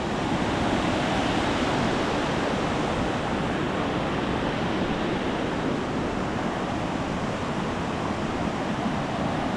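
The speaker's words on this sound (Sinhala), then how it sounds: "දැන් වතුර පාර මෙහෙම ඇවිල්ලා මෙතනින් ඇවිල්ලා මෙතනින් වැටෙන්නේ මෙහෙ මේ පැත්තට." Miyunu Ella waterfall in Sri Lanka, carrying brownish water, pours with a loud, steady, unbroken broadband rush that fills the whole stretch without pause, with no voices over it.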